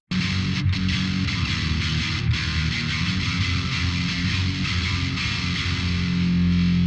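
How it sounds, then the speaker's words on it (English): A loud, thick high-gain distorted electric guitar tone plays continuously, saturated and buzzing with heavy sustain throughout. "I love mind-numbing high-gain distortion tones"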